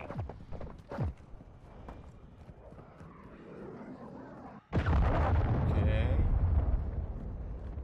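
Cruise missile strike in the Call of Duty: Modern Warfare II beta: a sudden loud, sustained roaring blast erupts partway through, following quieter battlefield ambience with brief speech and sharp transient sounds.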